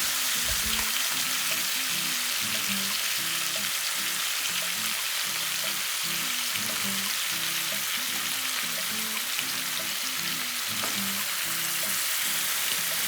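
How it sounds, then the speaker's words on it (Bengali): Marinated mutton pieces fry in hot oil in a pot, a loud, close, continuous sizzle and crackle with a low rhythmic bubbling underneath, no voices. "আগে থেকে যে মাংসটাকে ম্যারিনেট করে রেখেছিলাম সেটা এখন তেলের মধ্যে দিয়ে দিচ্ছি"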